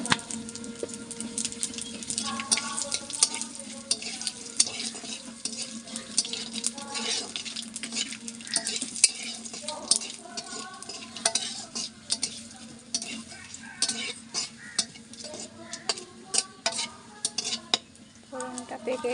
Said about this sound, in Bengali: এবার দিচ্ছি গোটা জিরে ফোড়নের জন্য।